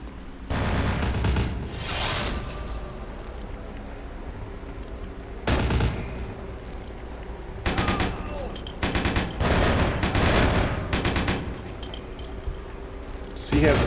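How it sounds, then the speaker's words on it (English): Bursts of gunfire in a Chinatown level of a Gangrel vampire role-playing game, heavy rapid volleys that come in clusters separated by quieter stretches, with a player speaking between the shots. "I guess I'm gonna have to shoot him down."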